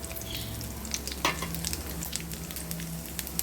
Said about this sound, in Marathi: मोहरी तडतडायला लागली की आपण इथे टाकूया जिरं